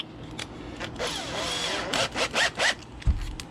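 A heavy-duty power drill whirs in uneven bursts, its motor pitch rising and falling, then revs in several short, close pulses followed by a brief clunk.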